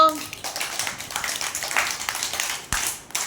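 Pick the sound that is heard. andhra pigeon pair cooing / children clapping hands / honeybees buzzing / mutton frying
children clapping hands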